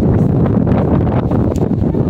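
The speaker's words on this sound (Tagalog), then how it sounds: "Sobrang lakas po talaga ng hangin mga babayan." Strong wind gusting outdoors in the mountains, a continuous loud buffeting roar hitting the microphone throughout, with no pauses.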